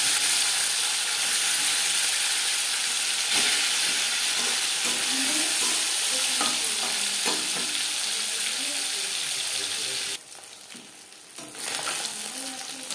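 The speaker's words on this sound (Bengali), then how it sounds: "4 চামচ রিফাইন্ড অয়েল গরম করে নিয়েছি। এবার দিয়ে দেবো ম্যারিনেট করে রাখা মাছ।" Marinated katla fish pieces frying in hot refined oil, a steady dense sizzle lasting throughout at close range, briefly quieting near the end before resuming.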